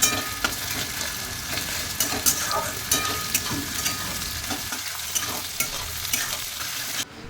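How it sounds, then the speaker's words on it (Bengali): Onion, tomato, ginger, garlic and chili fry in goat fat, giving a steady close sizzle broken by repeated scrapes and clacks of stirring. "এবার দেখো ভালো করে ভাজা ভাজা হয়ে গেছে"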